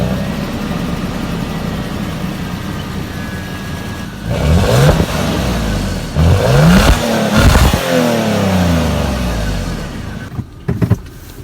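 A Toyota Land Cruiser on Dunlop AT3 all-terrain tires revving as it pulls away, a low idle broken by several loud rising revs with sweeping pitch and short pauses between them, close and fairly loud.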